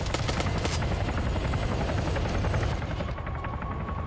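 A Chinook helicopter's heavy twin-rotor thrum fills a video game scene, steady and loud with dense low beating throughout, holding up without a break.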